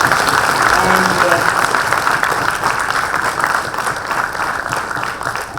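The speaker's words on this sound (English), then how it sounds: "A big round of applause for him." An audience gives a loud round of applause as Nandan Nilekani is welcomed to the stage for a talk on the Indian economy and technological disruption, with dense continuous clapping that eases slightly toward the end.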